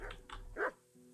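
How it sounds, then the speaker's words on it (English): A dog in the Kingdom Come Deliverance video game gives a few quick, sharp barks up close, then falls quiet over a low background hum. "Everybody has the same dog in this game."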